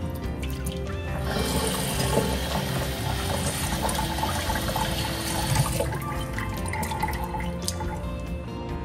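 Mutton being washed under running water, with a steady loud rush of tap water and splashing throughout that eases off near the end.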